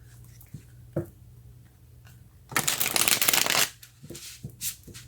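Tarot cards being shuffled by hand, a dense riffling burst lasting about a second after a few soft taps and handling sounds, close and fairly loud, with no voices.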